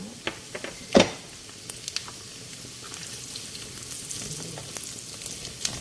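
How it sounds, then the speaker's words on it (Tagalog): Pork steak fries in a pan with a steady crackling sizzle, punctuated by a sharp clank early on and scattered pops, with no voices over it. "Piniprito ko siya para malasa."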